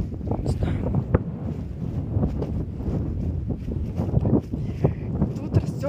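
Strong wind buffets the microphone outdoors beside young cedar and juniper trees in summer, a loud continuous roar and rumble with gusts throughout, while a person talks over it.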